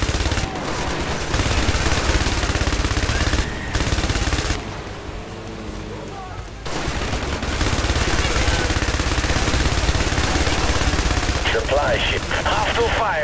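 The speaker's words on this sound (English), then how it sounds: "Hostile fire on the right." Rapid bursts of automatic gunfire and shots ring out almost continuously in a military combat video game, loud and dense, with brief lulls and a player's voice talking over the action.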